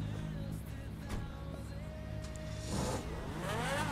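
A red Ferrari in GTA 5 pulls away, its engine note rising steadily over several seconds at close range, with no talking over it.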